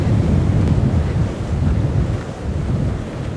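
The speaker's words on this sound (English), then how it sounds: "Oh, it is a breezy old day." Strong wind buffets the microphone at a seaside beach, a steady low roar with gusts rising and falling throughout, mixed with the wash of surf.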